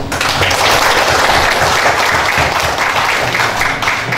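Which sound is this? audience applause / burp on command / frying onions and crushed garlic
audience applause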